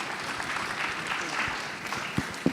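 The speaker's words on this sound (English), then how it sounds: "Can we give them another round of applause, please?" Audience applause for a panel of speakers at a conference on regulatory sandboxes, heard as a steady dense patter of many hands clapping at moderate distance for a couple of seconds, with a few sharper claps near the end.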